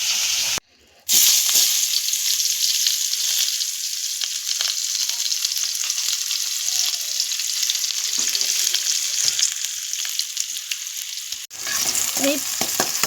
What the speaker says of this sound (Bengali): আমি পেঁয়াজ কুচি আর আদা রসুন বাটা দিয়ে দিয়েছি। এগুলোকে আমি একটু লাল লাল করে ভেজে নেব।